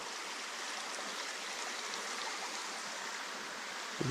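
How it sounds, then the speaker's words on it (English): A small mountain stream in western North Carolina trickles steadily and evenly, a close, continuous wash of running water with no voices over it. "that's just a trickle"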